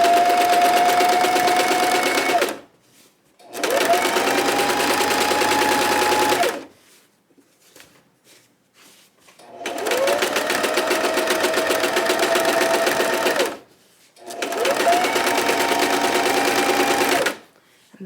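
A sewing machine runs in four loud, steady bursts of rapid stitching during free motion quilting of a heart table runner, with short pauses between runs.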